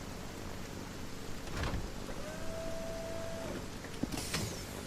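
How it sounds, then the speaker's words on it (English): Rain falls steadily in the airship video game Solarpunk, a constant soft hiss with a brief low rumble like distant thunder and a few faint tonal game sounds over it, no talk. "It's raining right now"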